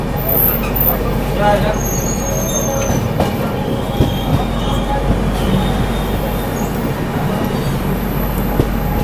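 Mahakaushal Express pulling into Dholpur Junction station in Rajasthan, a steady loud rumble of rolling coaches with brief high wheel squeals near the start, continuous throughout with faint voices mixed in.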